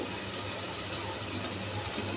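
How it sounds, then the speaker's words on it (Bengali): Water pours steadily into a cooking pan of frying fish in oil, a soft, continuous rush, quiet and unbroken throughout. "এরপর একটু পানি দিয়ে দিলাম।"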